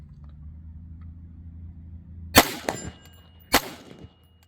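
An AR-15 rifle fires down range at an outdoor range, giving three sharp, loud reports close together after a low steady hum, each followed by a brief ringing decay.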